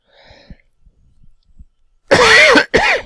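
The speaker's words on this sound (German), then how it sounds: "muss ich schon wieder husten?" Two loud, close coughs in quick succession, preceded by faint small clicks and rustles in an otherwise quiet room.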